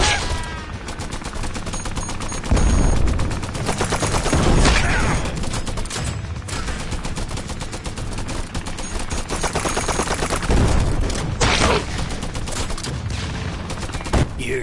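Dense, continuous gunfire from the VR shooter game Guns n Stories: Bulletproof, rapid machine-gun bursts and booms layered together at full volume for the entire stretch.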